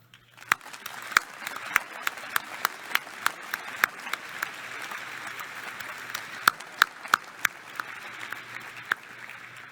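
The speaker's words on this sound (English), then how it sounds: "they very much deserve a round of applause for them." An audience at a graduation ceremony applauds the graduates' parents. The clapping is steady and moderately loud, with sharp individual claps popping out of the crowd's even patter the whole way through.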